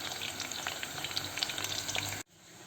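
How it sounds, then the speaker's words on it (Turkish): Eggplant and other vegetables sizzle steadily in a hot pan, with crackling pops throughout before the sound cuts off abruptly near the end. "Tüm malzemeyi kızartıyoruz."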